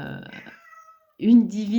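A small cat meows loudly and close by, its voiced harmonic cry filling the second half after a man's speech and a short pause.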